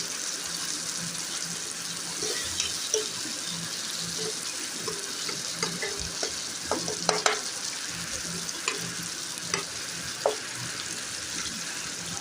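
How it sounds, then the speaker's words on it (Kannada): Horse gram frying slowly in oil, a long, even, moderately quiet sizzle with scattered small pops and occasional stirring clicks, close and uninterrupted by speech. "ಅದು ನಿಧಾನಕ್ಕೆಲ್ಲ ಫ್ರೈ ಆಗ್ತಾ ಬರ್ತಿರುತ್ತೆ ನೋಡಿ."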